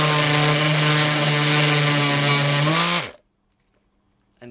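A Dewalt DCW210 random orbit palm sander runs loud and steady with a strong motor hum for about three seconds, then winds down abruptly into near silence, with a faint click at the end.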